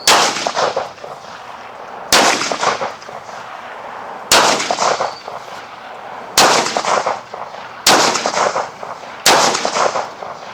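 Six loud pistol shots at an outdoor range with Berettas, Jerichos and a Sig P228, fired at an even pace about two seconds apart, each sharp crack trailing off in a short echo.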